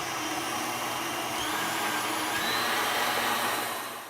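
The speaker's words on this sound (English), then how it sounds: "Beat the eggs and the zest and the sugar at high speed for about 3 minutes." A blue stand mixer beating eggs, orange zest and sugar at high speed, giving a steady loud motor whine with a whirring hum that holds constant, then fades slightly at the end, with no talking.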